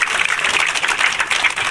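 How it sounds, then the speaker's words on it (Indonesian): Applause from an audience at an Indonesian public gathering, a loud, dense, steady wash of many clapping hands filling the whole short moment with no break. "Tepuk tangan untuk kita sendiri."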